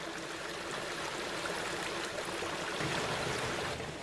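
Steady rushing of a trout brook's current pouring over rocks, a continuous broadband wash holding even and fairly loud throughout with no voices.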